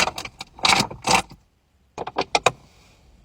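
Someone climbs into a car: a close jangle of keys and the clunk and rustle of getting in, then a pause and a second quick burst of handling sounds and a door movement, with no one speaking.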